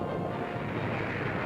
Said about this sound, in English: naval gunfire mounts to an unbelievable crescendo of thunder, smoke,